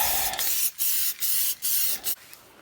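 Four or five short bursts of hissing from a spray paint can on a 1955 Ford Customline car body, each about a third of a second, separated by brief pauses, close to the microphone.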